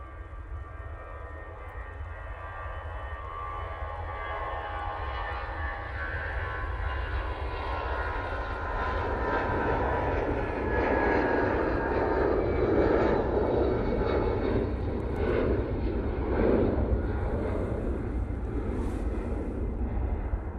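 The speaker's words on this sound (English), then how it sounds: "And here goes the Etihad." An Etihad airliner takes off from Manchester Airport with a sustained broadband engine roar that swells toward the middle and stays strong, a steady rushing thunder heard alone.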